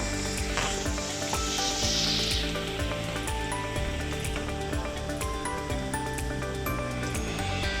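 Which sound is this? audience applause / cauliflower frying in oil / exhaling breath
cauliflower frying in oil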